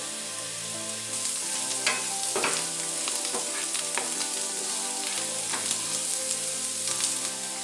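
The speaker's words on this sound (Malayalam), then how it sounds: "അപ്പോൾ ഈ സവാളയൊക്കെ വഴന്ന് വന്നിട്ടുണ്ട്" Onions sauté in a pan with turmeric powder for a Kerala taro leaf curry, giving a steady, dense sizzle throughout with occasional soft spatula stirs and scrapes, close and continuous with no speech.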